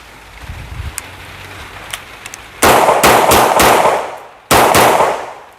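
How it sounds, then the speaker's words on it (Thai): A Zoraki 925 blank gun firing blank cartridges, with sharp, loud reports in a rapid burst of four shots followed by a single shot, after quiet handling noises outdoors. "ยิงทดสอบแบล็งกันสูรกิ 925 ด้วยกระสุนปลอกเงินโอกุซันฮะ"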